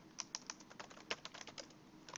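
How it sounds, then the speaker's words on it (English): Typing on a computer keyboard, a run of light clicky keystrokes in an irregular rhythm with a few sharper taps, close and fairly quiet with no talking. "here you can type a little summary"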